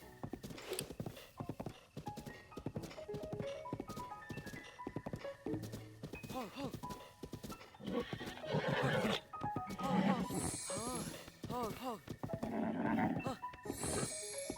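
A horse in the video game The Legend of Zelda: Breath of the Wild whinnies and clip-clops with hoofbeats, mixed with game music and a voice talking over it.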